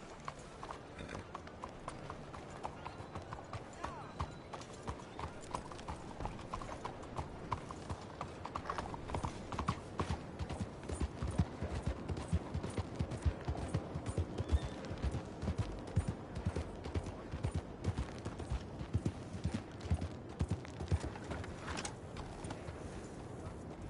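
Horse hooves clip-clop in Red Dead Redemption 2 in a steady, brisk rhythm, growing busier and louder midway, with occasional sharper cracks mixed in.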